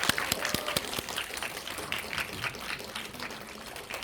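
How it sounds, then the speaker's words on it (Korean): Cinema audience applause at a film screening event, a crowd clapping steadily with some sharp individual claps early on, gradually thinning out. "큰 박수 부탁드립니다."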